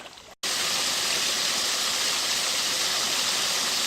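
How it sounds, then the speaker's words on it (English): Waterfall at Greenway Bank Park, a dense, continuous close-up rush of falling water that cuts in abruptly after a brief quieter moment and then holds steady and loud. "I hadn't noticed staring at the waterfall"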